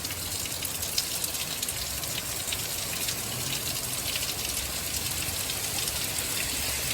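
April hailstorm in Bako, a continuous dense clatter and hiss of stones hitting surfaces close by, steady and even for the whole stretch with no voices.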